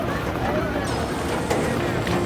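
A boat pushes through big, rough waves on the Padma river, giving a steady wash of water and wind noise with no clear breaks.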